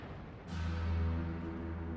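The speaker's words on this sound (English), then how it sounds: "There was a huge explosion." The battlecruiser Hood blows up after a Bismarck shell strikes it: a deep, rumbling blast swells in suddenly and rolls on at a heavy, sustained low roar, with no voices over it.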